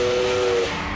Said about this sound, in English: In response, it blows its steam whistle.